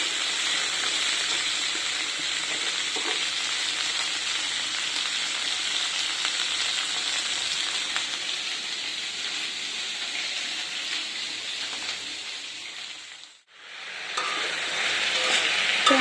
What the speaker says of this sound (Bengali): বিম কড়াইয়ের তরকারির জন্য বিম কড়াইটা ভাজতে বসিয়েছি